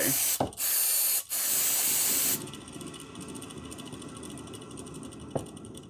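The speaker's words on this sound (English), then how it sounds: "Let's clean the contact points with some electrical cleaner" Several loud bursts of electrical contact cleaner hiss in quick succession onto a BMW E36 alternator's contact points, followed by a steady mechanical whir with a faint ticking rhythm from bad bearings.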